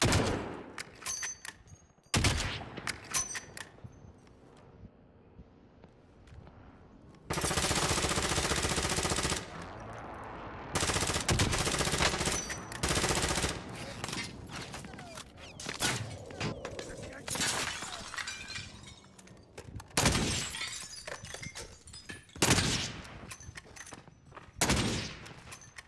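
Sniper shots and bursts of gunfire in an online shooter match, loud cracks and sustained rattling volleys scattered irregularly throughout, with players talking over the action.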